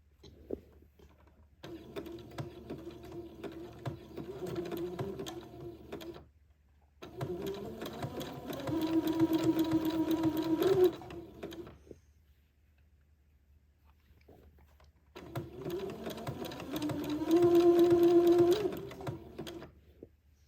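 Domestic sewing machine zigzag stitching lace onto entredot, run slowly in three bursts of rapid mechanical whirring separated by short pauses, close and moderately loud with no talking.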